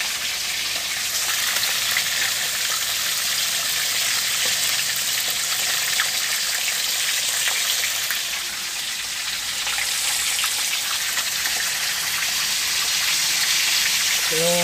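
Plapla fish frying in hot oil gives a constant crackling sizzle, close and steady throughout.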